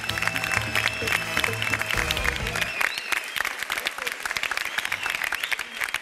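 A studio audience applauds the winning couple Hicran and Ensar on a partner quiz game show, dense steady clapping that continues throughout, with music playing under it at the start.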